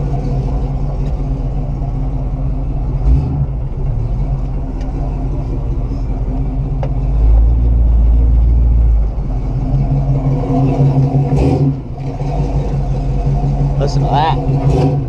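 A 1969 Buick Special Deluxe engine rumbles as the car pulls away in drive, with a deep, steady idle that swells into a louder throaty surge midway. Someone talks over it.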